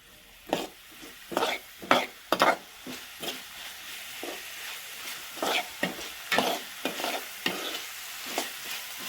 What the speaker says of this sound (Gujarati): ફરી વાર બરોબર અને સરખી રીતે મિક્સ કરી દઈએ